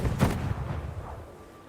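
A single heavy in-game gunshot booms loudly up close, then its low rumble fades away over about a second.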